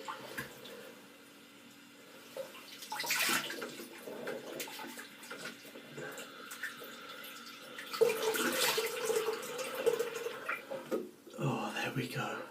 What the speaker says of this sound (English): So I'm just going to rinse my face.